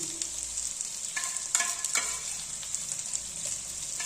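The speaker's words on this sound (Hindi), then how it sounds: "ये डाल के बस इसे थोड़ी सी देर ही भूनेंगे" Minced keema with finely chopped green chillies fries in a pan, a loud steady sizzle close by, broken by a few scraping stirs of the spoon.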